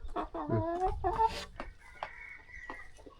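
Laying hens cluck close by, a series of uneven clucks and short squawks from several birds, fading into quieter scattered calls.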